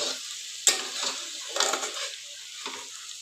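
Methi bhaji, a dry fenugreek leaf dish, is stirred in a pan, with a few scraping strokes over a soft sizzle and a sharp clink from the spoon hitting the pan, close by with no voice.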